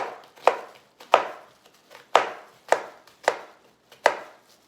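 A knife chops through a peeled onion on a cutting board in six crisp, evenly spaced thuds, each one close and distinct with a short decay and quiet gaps between them.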